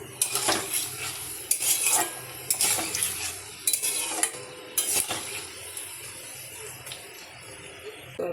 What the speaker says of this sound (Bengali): এভাবে লাল লাল করে ভেজে নিতে হবে